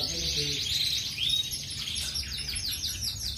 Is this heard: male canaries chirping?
yes